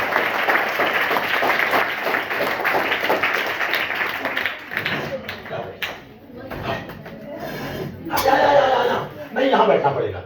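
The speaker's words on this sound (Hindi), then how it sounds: "एक बार चाचा जी की ताली बजा दो" Children in a school classroom clapping together for an uncle, a steady round of applause with chuckles mixed in, fading and then returning in a second burst near the end.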